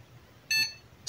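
A computer motherboard beeps on power-up while under repair, in a short burst of several rapid high-pitched beeps close by, with a quiet hum underneath and another beep starting at the end.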